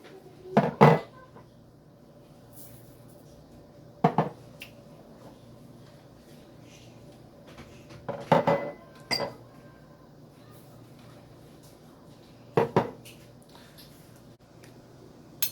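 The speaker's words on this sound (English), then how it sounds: "we'll just mix up all the ingredients into the keema." Minced meat being mixed with kebab masala ingredients in a bowl, a few separate bursts of wet squishing and knocks against the bowl spread across quiet stretches, with no talking.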